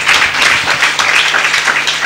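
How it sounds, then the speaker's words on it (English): An audience at a festival panel session applauds, a dense, loud burst of many hands clapping for about two seconds with no voices over it. "A round of applause for both."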